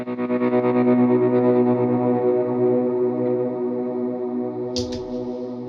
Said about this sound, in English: And then I do swells on that, and I swell in with the tremolo.